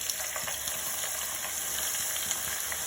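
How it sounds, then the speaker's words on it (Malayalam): Thinly sliced onions fry in a pan for Kerala-style neychoru, giving a steady, close sizzle with faint crackles and occasional stirring throughout, no voices. "അത് നമുക്കൊന്ന് ഫ്രൈ ചെയ്തെടുക്കുക."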